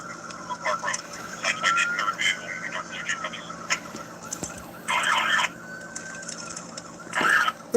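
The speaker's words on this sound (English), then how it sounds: "Like, you don't hear them sirens," A police car siren wails through busy traffic noise, its tone rising and falling steadily while car engines and road hum fill the background.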